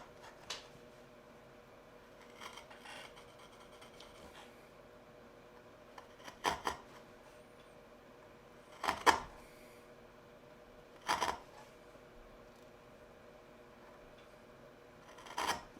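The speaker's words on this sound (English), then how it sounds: "In my last pass, the back of the chisel goes down onto that shoulder cut by the marking gauge." A hand chisel pares a dovetail in wood down to a marking-gauge shoulder, making a few sharp, scraping strokes spaced a couple of seconds apart over a quiet background, close and without talk.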